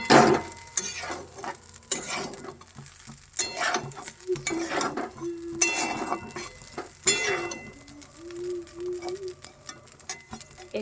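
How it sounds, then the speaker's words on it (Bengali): Pasta is stirred into beaten egg in a pan, with intermittent scraping and mixing strokes in short bursts and faint clinks, close by, over soft background tones. "এরপর আমি পাস্তাগুলো এই ডিমের মধ্যে দিয়ে দেবো। বন্ধুরা, আমি পাস্তাটা দিয়ে দিয়েছি। এরপর ভালোভাবে নেড়ে নিচ্ছি।"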